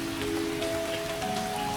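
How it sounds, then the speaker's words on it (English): Gentle rain patters steadily against window glass in a soft, even hiss, with a faint sustained tone underneath and no voices. "The rain continues its soft patter, a steady lullaby against the glass."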